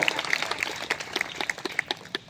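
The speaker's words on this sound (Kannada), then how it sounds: "ಮತ್ತೊಂದು ಸಲ ಆಕೆಗೆ ಜೋರಾಗಿ ಚಪ್ಪಾಳೆ ತಟ್ಟೋಣ" Audience applause at a Kannada religious discourse gathering during Shravan month: scattered, fairly sparse claps rising and falling steadily for a couple of seconds, moderately distant in a hall.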